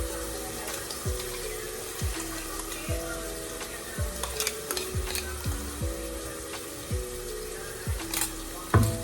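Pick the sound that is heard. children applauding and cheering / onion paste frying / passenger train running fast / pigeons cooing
onion paste frying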